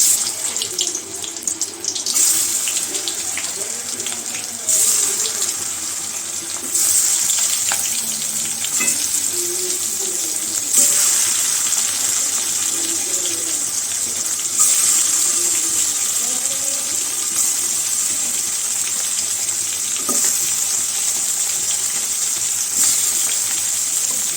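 Tap water runs steadily into a sink while a child washes their hands, a continuous close splashing flow that lasts throughout with no talking.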